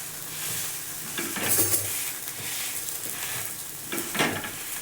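Dosa batter cooking in a covered pan, a steady soft sizzle with faint scraping and light metallic touches, close and continuous with no talking.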